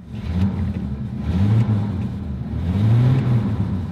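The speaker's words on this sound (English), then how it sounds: "And really, just listen to that engine." An old truck engine with high mileage idles and revs up close, a deep rumbling drone swelling in two surges with no talk over it.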